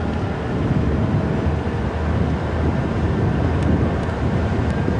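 Wind buffets the open vehicle on an overcast safari drive at Djuma Game Reserve, a steady low rumbling roar against the microphone with no voices.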